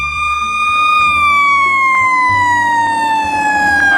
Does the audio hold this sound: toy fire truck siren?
yes